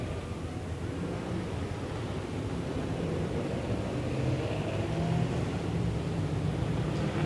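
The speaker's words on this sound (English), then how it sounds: "The final car's coming out. We have our 20 finalists out on track for the main race." Super sedan race cars rolling out onto the Moama Speedway dirt track, a steady broad engine rumble heard at a distance and holding level throughout.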